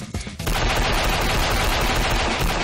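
Shotgun fire in the game Banzai Escape, a loud, dense and continuous blast of gunfire that starts sharply and fills the whole stretch without pause.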